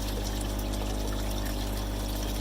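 Dirty water from a vegetation-filled duck pond filter drains through an opened valve, a constant close rushing flow over a low steady hum with no pauses.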